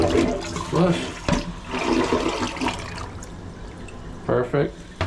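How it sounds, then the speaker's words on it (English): A newly installed toilet flushes with a rushing gurgle of water and refilling trickle, while people talk intermittently nearby over it. "Okay, flush."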